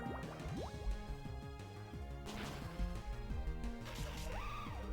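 A water attack splashes and gushes in the Pokémon White 2 video game. Liquid sloshes in short bursts with a few thuds, set over looping game music and fairly quiet.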